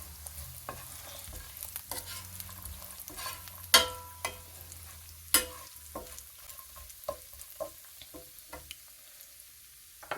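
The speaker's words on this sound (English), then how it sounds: "It's all frying with the cashew." Cashew nuts fry in a pan with cinnamon, ginger, curry and green cardamom for carrot cashew nut rice, giving a quiet sizzle under scattered scraping and stirring clicks.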